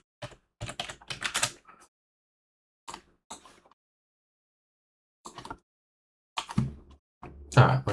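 Bursts of quick, crisp keystrokes on a computer keyboard as a sudo password is entered on an Arch Linux machine, typed in short clusters with pauses between them, close and clear with no talking.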